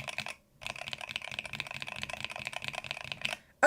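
Rapid, steady typing on a Hummingbird 68 keyboard with stock switches, deep keystrokes clattering close and clear with a short pause near the start, no voices.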